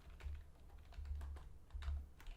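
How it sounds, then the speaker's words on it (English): Close, crisp keystrokes on a computer keyboard come in quick irregular bursts with brief pauses between runs of typing. No one speaks. "And I'm typing it in."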